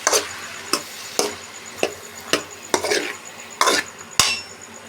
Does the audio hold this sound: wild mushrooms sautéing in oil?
yes